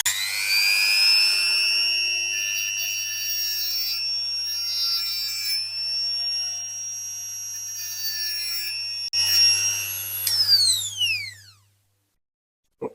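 Steady high-pitched whine of a rotary grinding or sanding tool rounding off and squaring the edge of a diecast Dinky Toys Ferrari No. 234 part, continuous and close for about nine seconds, then briefly rising and winding down into silence.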